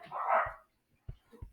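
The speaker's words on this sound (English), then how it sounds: "Sorry about my dogs, they're barking at the air." Dogs barking at nothing indoors: a breathy bark-like burst early, then a few short, sharp low barks after a pause, moderately loud.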